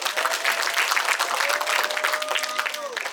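Audience applause fills a staged event hall, steady dense clapping throughout at close range, with a faint sustained tone running underneath.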